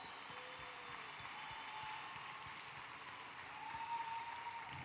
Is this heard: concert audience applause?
yes